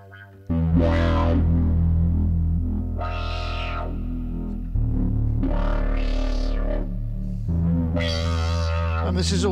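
Distorted tones from a Kodamo Mask 1 digital bitmask synthesizer play in four sustained, buzzing notes with harsh harmonics, loud and close, each swelling bright in the treble.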